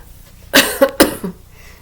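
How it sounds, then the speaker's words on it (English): Three sharp coughs in quick succession, close and fairly loud, followed by a softer throat sound, with no speech. "As I said, I might be coughing through this"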